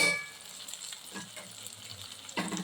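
Ground chilli paste hits a hot pan and fries with a soft, steady sizzle, broken by a few stirring scrapes, close and fairly quiet.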